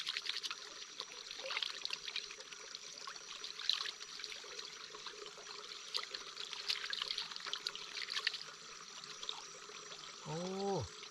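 Hands being washed in a small forest stream beside a riverside campsite after heavy rain: a steady, close trickle and splash of flowing water throughout, with a short croaking frog call near the end.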